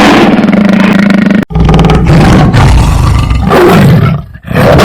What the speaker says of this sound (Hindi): एक जबरदस्त दहाड़ के साथ